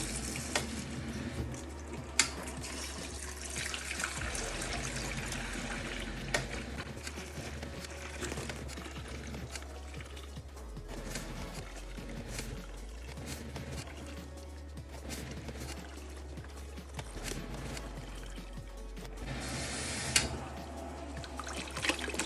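Water rushing from an opened tap to flush underfloor heating circuits, a steady, continuous gushing flow that lasts throughout at a constant close level, with a few faint knocks and no speech.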